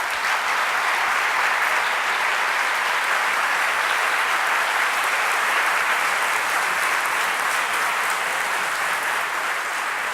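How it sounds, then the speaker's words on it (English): An audience at an Oxford MBA debate on social responsibility in business applauds the speakers, with dense, loud, sustained clapping filling the whole stretch at an even level. "Please, a round of applause for our speakers."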